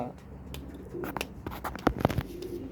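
Pigeons arriving and settling on a rooftop, with soft coos, wing flutters and light landing bumps clustering near the end over a steady outdoor background; a faint voice is present.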